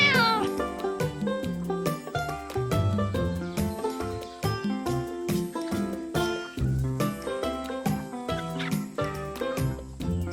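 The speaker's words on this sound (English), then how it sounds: "What does the cat say?" A cat meows repeatedly in quick succession, about a dozen close, clear cries with a ringing, tonal quality, some rising into drawn-out wails, with no talking.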